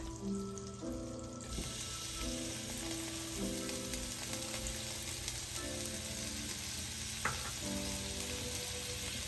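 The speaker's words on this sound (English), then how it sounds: "I'm going to kind of mix all of that around. Just kind of saute it." Garlic sautéing in unsalted butter and olive oil gives a continuous soft sizzle with occasional stirring, quiet and close, with no speech.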